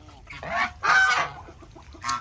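Farm geese give a few loud nasal honks, two or three bursts close by over a quiet background.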